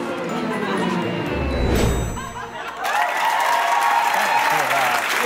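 Studio audience clapping and cheering at a comedy show, a loud dense wash of applause swelling and carrying on with a burst of whoops, with a voice and a brief dog-like yip mixed in early.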